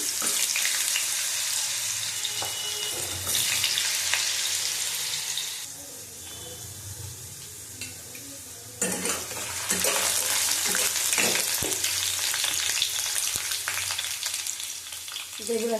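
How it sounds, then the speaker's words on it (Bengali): Fish bones and bitter gourd fry together in a pan with potato, a loud steady sizzle with occasional stirring scrapes that briefly quiets midway before resuming strongly. "চচ্চড়ি হবে এটা একসাথেই সব ভাজবো আমি"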